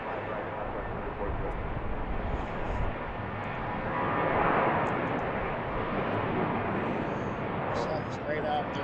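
A fixed-wing airliner taking off from runway 15 right at BWI airport on an afternoon, its engines a steady broad roar that builds slightly midway and stays loud and continuous throughout.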